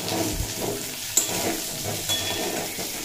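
Young jackfruit pieces fry with salt and turmeric in a pan, giving an even, close sizzle with faint stirring scrapes.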